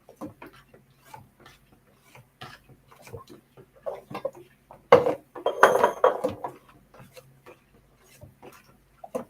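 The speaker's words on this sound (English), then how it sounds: "So you're going to stir that." A spoon stirs herbal tea with honey in a cup, making sparse clinks and scrapes that rise to a brief, busier flurry of clattering near the middle, close and fairly quiet with gaps between.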